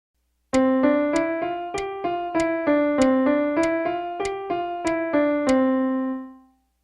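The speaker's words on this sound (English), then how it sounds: "So a series of 8th notes played using the same 5-note sequence would sound like" A piano plays a steady run of eighth notes cycling through the same five-note pattern, each attack crisp and evenly spaced, ending on a held, fading final note, alone with no talk.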